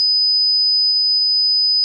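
Steady, piercing high-pitched 5000 Hz sine test tone held evenly for about two seconds, pure and unchanging, with nothing else audible.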